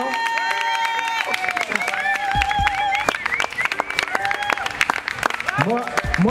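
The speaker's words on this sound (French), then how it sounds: "je voudrais qu'on les applaudisse. Je voudrais qu'on les applaudisse vraiment" Applause from a political rally audience for the European elections, clapping mixed with crowd noise and voices, steady and fairly loud with cheering bursts throughout.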